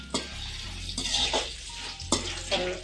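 Ingredients for homemade puliyogare powder being dry-fried in a pan, a soft steady sizzle under repeated scraping and clinking of a spatula against the pan, close and moderately quiet.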